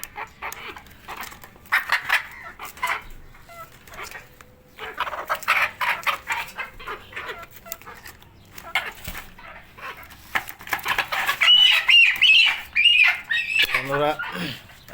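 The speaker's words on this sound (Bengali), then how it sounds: "আমার বাগানের সবগুলো মুরগি ছেড়ে দিলাম, ছোট্টখাট্ট একটা খামার" A small flock of garden chickens, just let out into a home garden farm, clucks and calls in quick, busy bursts, mixed with other animal cries and close, uneven activity.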